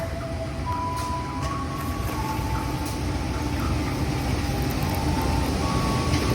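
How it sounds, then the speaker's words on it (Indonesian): Sribila Utama executive and business class passenger train standing at Kisaran station, a steady low rumble of idling engine and air conditioning with faint tonal hums throughout. "Kereta api Sribila ini kereta api kelas eksekutif dan bisnis"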